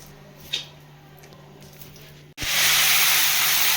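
Mustard seeds crackle and sizzle in hot oil for tomato pappu, a sudden loud broadband hiss bursting in after a quieter stretch and holding steady to the end.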